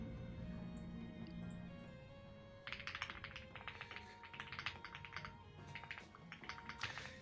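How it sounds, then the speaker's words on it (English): Quiet computer keyboard typing, a run of rapid irregular clicks starting partway through over a low background hum, near and faint. "can hear your keyboard?"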